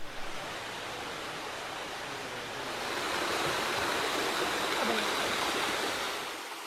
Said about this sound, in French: Une jolie cascade près du hameau.